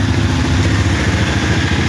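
A motorcycle engine idles steadily nearby on a cold stop during a motorcycle trip, a continuous low, even putter with no revving and no voices.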